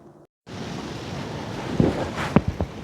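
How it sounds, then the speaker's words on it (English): Strong outdoor wind rushes and buffets the microphone in a steady roar that builds and gusts louder toward the end, with a few thumps, at a beekeeping site. "So it's pretty windy out here today."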